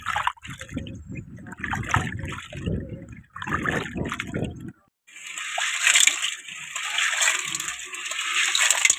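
Mahua flowers are washed by hand in water, with bursts of sloshing, trickling and splashing that pause briefly partway through and then return as a brighter, continuous swish.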